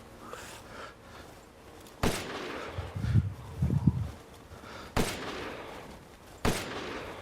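Gunfire in the video game Resident Evil Village, three sharp loud shots spaced a few seconds apart, with softer game noises between them and no talk.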